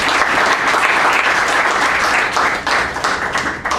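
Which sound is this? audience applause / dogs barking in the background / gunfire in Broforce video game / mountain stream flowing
audience applause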